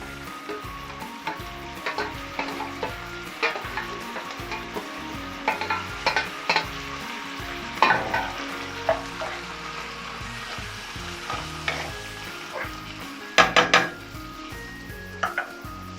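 Vegetables with garlic sizzle and fry in a hot pan for a Turkish meat sauté, with steady crackling frying noise and repeated scraping, clinking stirs of a utensil against the pan throughout.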